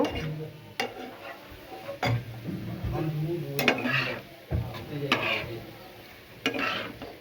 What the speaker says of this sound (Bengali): তাহলে আমি পেঁয়াজটাকে লাল করে ভেজে নিচ্ছি